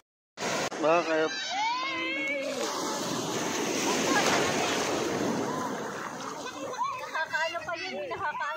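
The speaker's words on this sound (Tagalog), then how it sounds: "Okay, ang dami yung alon." Ocean waves at a beach in Batangas wash in as a broad, steady rush with wind buffeting close to the microphone, while people chat and laugh over it.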